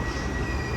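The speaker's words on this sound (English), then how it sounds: "This is the westbound train to Hopkins." A new Baltimore subway train heading westbound to Hopkins rumbles along in a low, even, faint hum with no voices.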